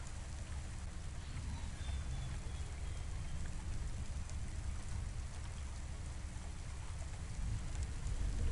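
Continuous rainfall in the game Cloudpunk's rainy city, a dense even wash of drops over a deep rumbling undertone, moderately loud and unchanging, with no one speaking.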